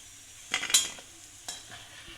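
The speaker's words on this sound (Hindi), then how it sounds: "घुघतों को भी अच्छी तरह से तलना पड़ता है" Ghughuti sweets frying over low heat, with a soft bubbling sizzle and two brief bursts of stirring or spatter; no voices.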